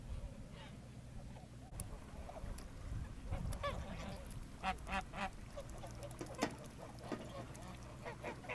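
Kars geese in an outdoor flock give repeated honking and quacking calls, fairly faint and scattered, over a low background rumble.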